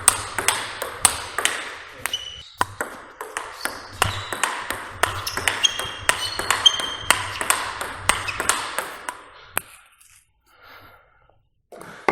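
Table tennis ball struck repeatedly with a Sanwei 75 ALC blade, a rapid series of sharp, close pings and taps in a steady rally rhythm, stopping near the end, with faint background noise and no talk.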